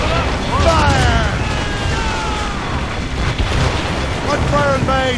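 Cannon fire and explosions in a naval battle from Assassin's Creed Rogue, loud booms and blasts rolling under shouted commands and voices, with wind and sea noise filling the background throughout.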